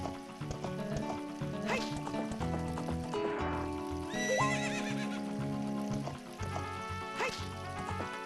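A horse in the Zelda Ocarina of Time randomizer video game neighs and whinnies several times over steady clip-clopping hooves, loud and close, alone without talk.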